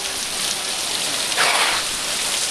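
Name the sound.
heavy rain falling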